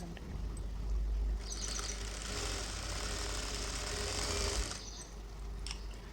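A domestic sewing machine stitching blouse fabric, a steady mechanical whirring run lasting a few seconds at close range, starting and stopping with quieter gaps on either side and no talking.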